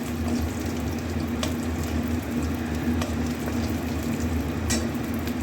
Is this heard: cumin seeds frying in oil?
yes